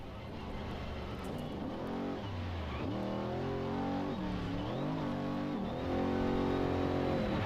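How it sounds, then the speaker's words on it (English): Engine of an off-road trophy truck racing in the Baja 400, running a Dugan's engine, revving repeatedly with rising and falling pitch, loud and close, sustained without speech. "Just listen into that engine for a minute."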